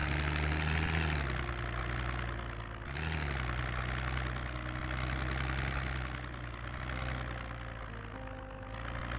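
A car engine in the Project Zomboid survival game idles and drones steadily while driving through snow, a continuous low mechanical hum with a brief dip in pitch near the start, with no talking.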